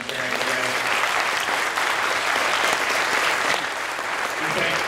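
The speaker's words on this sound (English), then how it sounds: "If we can just give the panel just one more round of applause." A seated audience gives a panel discussion a round of applause: steady, dense clapping from many hands, close and loud, running unbroken throughout.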